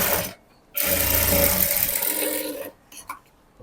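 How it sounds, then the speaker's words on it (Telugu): A sewing machine runs a top stitch on a blouse in one steady burst of about two seconds, close and fairly loud, with brief handling sounds before and after and no talking. "చేసుకొని ఒక టాప్ స్టిచ్ వేసుకోవాలి."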